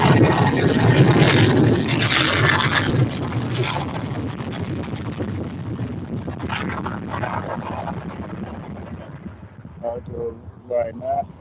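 A Ryanair aircraft departs Manchester Airport with a loud broad jet roar that slowly fades as it moves away, blended with wind buffeting, and a person talks near the end.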